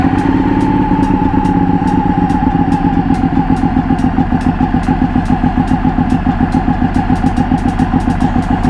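A Ducati Panigale 1199 Tricolore with an L-twin Superquadro engine and aftermarket exhaust idles close up, a loud, lumpy, evenly pulsing rumble with rapid rhythmic throbs throughout, alone without voices.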